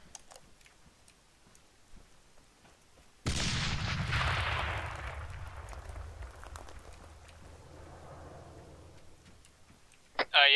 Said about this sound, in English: Heard a massive explosion.